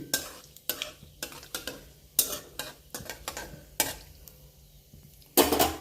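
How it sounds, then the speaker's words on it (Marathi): Mustard seeds crackle in hot oil for a spiced onion kurdai stir-fry, with a faint sizzle broken by repeated sharp clinks and scrapes of a spoon against the pan. "तेल तापलेले आता आता आपण मोहरी टाकून घेऊ"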